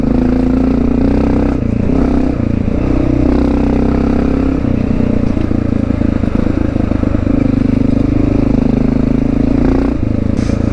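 Honda XR650L dual sport motorcycle ridden on a trail, a loud, close single-cylinder engine drone with shifting revs, wind buffeting and occasional clatter throughout.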